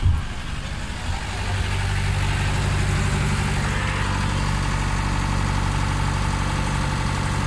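A fishing boat engine on Lake Titicaca idles steadily, a deep rumbling drone with a constant throb, loud and close, no voices.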